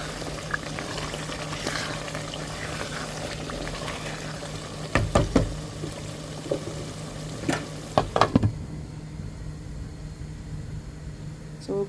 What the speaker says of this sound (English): So we're going to leave it to fry a bit, then we can start adding the meat to it.